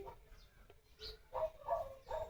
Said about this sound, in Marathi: कुत्र्यांचा आवाज येतोय तिकडं